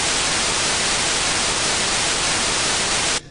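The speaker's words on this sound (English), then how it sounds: "Daniela watches White Noise on the TV." Television white noise static inside the PS2 horror game Haunting Ground: a steady, loud broadband hiss that fills the whole span without a break, then cuts off abruptly at the very end.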